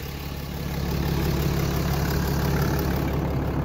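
A Cummins 6.7-liter turbo diesel in a 2017 RAM 3500 4x4 dually idles steadily up close, its deep, even rumble swelling slightly in the first second and then holding level with no talking.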